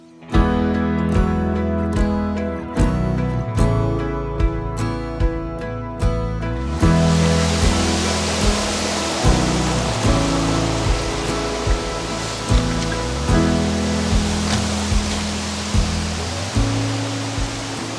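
Steady broadband rush of falling water, loud and continuous, with a rhythmic musical tune playing over it throughout.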